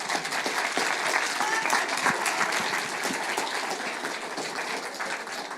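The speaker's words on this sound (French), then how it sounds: "que je vous demande d'applaudir." An audience at a film discussion event applauds warmly, a dense, even wash of clapping at close range that holds steady for several seconds with no talking over it.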